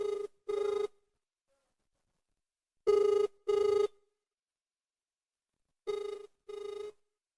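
A telephone rings for an outgoing call, three pairs of double rings spaced evenly with silent gaps between them, clear and moderately loud with no voices.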